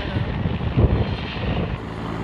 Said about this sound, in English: Then there's helicopters up there.